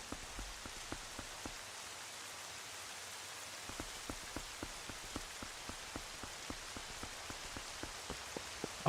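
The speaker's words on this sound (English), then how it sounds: "the fog and the rain is really thick here" Steady rain falls in Zelda: Twilight Princess, a soft continuous patter with regular faint drip-like ticks throughout, fairly quiet and alone with no voices.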